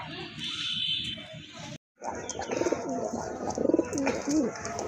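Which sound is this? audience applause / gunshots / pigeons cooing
pigeons cooing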